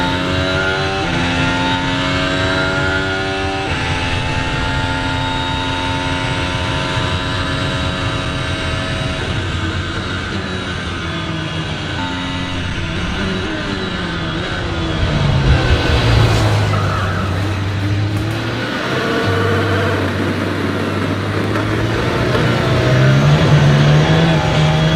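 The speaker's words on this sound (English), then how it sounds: "This drone can keep up with an F1 car" A Formula 1 race car roars past at speed in London, its high engine note sweeping in pitch as it passes, then a second loud pass near the end, with no talk.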